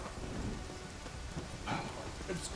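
Steady rain with a low thunder rumble in The Witcher 3 at sunset, a continuous even wash of downpour with no voices.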